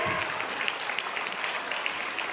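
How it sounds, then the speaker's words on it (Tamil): An audience at a Tamil stage debate programme applauds in a dense, even burst of clapping that holds steady at moderate volume throughout, with a few sharper individual claps standing out. "ஆமா, உண்மையா கைத்தட்டுங்க."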